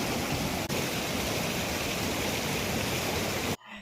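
Stream water rushes hard over stones, a loud, steady, close-up roar that cuts off abruptly at the end. No one speaks.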